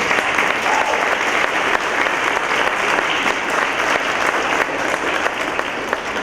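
A crowd at a community group's annual meeting applauds for several seconds, a thick, sustained wash of clapping at even loudness throughout.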